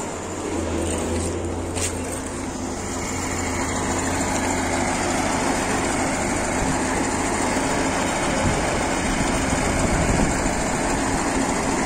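Crane engine running as it hoists a concrete floor slab on a building site, a steady mid-distance mechanical drone with a low hum that fades early on, continuous throughout.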